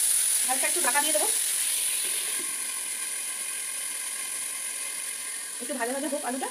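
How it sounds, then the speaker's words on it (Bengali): Potatoes frying in a lightly covered pan for a vegetarian aloo dum, a soft steady sizzle with brief bursts of scraping or stirring near the start and end. "একটু ভাজা ভাজা হোক আলুটা"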